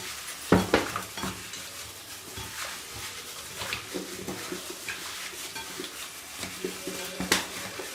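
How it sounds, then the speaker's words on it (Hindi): Fish pieces being mixed by hand with salt, pepper and spices in a bowl, giving soft wet squelching and stirring sounds with occasional clinks of the bowl, fairly close and steady, with no talking. "अब मैं इसे हाथ की मदद से मिक्स कर लूँगी।"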